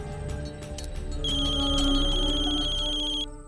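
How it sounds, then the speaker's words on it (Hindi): A phone ringtone plays steadily for about three seconds, a bright electronic tone over a low background hum, then cuts off. "अगम की माँ का फोन"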